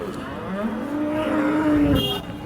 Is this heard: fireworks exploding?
no